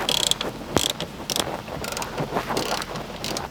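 A ratchet turns out 10mm shifter mounting screws, quick close clicking pawl bursts in short rapid runs with brief pauses and small metallic knocks between them.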